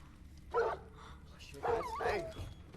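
In a sci-fi mystery thriller film, a dog gives two quiet bursts of barking and whimpering, the second a whiny yelp, fairly faint against a low background.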